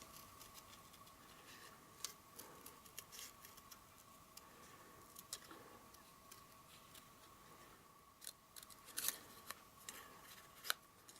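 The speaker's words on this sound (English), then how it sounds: "So cut round the petal of the big daffodil." Scissors cutting round the petals of a paper daffodil for an Easter card: faint, close snipping and scraping clicks at an irregular pace with no talking.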